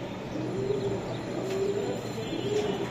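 Soft, low coos from old-breed high-flying Girbaz pigeons in Lalbagh, Old Dhaka, repeat a few times over a steady background hum, fairly close and moderately quiet.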